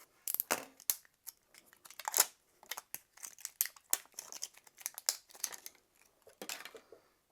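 A battery package from a Crane 2S Pro gimbal being opened by hand: close, quiet crinkling and tearing of plastic packaging in irregular bursts, with crisp snips and rustles throughout and no talking.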